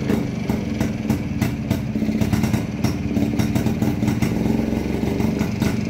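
An old Jawa motorcycle engine converted to electronic ignition runs at a steady idle close by, with an even, rapid mechanical clatter throughout and no voices.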